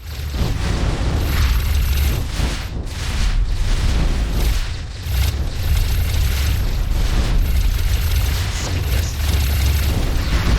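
Weapons fire and explosions rumble without a break during space combat in the video game X4 Foundations, a loud, dense wall of booms and bursts that barely eases over the whole stretch.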